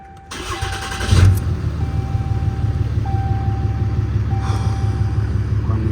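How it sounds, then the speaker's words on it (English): A 2016 Ram 2500 with a 6.7 Cummins diesel, fault-coded for lost turbocharger communication, cranks briefly and fires, then settles into a steady, close diesel idle with a faint high whine on top. "let me go ahead and start the truck again"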